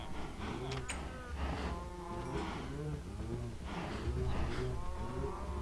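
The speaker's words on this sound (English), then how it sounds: "This is a really noisy area now. Look at all the coos." Several cows mooing in Minecraft, a herd in a farm area giving repeated low, drawn-out moos that overlap one another, fairly close, with steady background game ambience and no talk.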